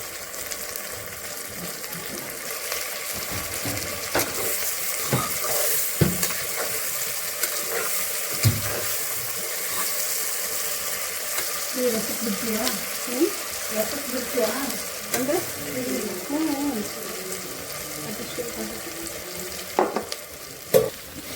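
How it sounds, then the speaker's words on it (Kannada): Masala-stuffed eggplant frying in oil with tempering, a steady sizzle with occasional stirring clatter and faint voices in the background. "ಇದೇ ಎಣ್ಣೆಯಲ್ಲಿ ಒಂದು ಫೈವ್ ಮಿನಿಟ್ಸ್ ಬಾಡಿಸ್ಕೋಬೇಕಾಗತ್ತೆ"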